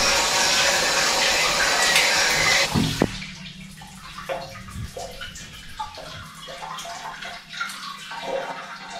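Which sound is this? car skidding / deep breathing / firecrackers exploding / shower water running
shower water running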